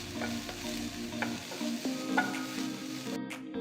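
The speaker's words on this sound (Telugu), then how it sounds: "పావు కప్ అంత తరిగిన బీన్స్ కూడా వేసి బాగా కలిపి ఐదు నిమిషాల పాటు వేయించాలి" Chopped carrots and beans stir-frying in a pan for mini samosa filling, a short close sizzle with soft scraping stirs and a low steady hum underneath, no voices.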